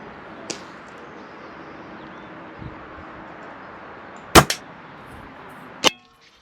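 A Weihrauch HW95k air rifle, a tuned special edition, fires with a sharp crack and metallic twang, followed by a faint pellet impact. A second, separate shot comes a moment later, loud and close in quiet surroundings.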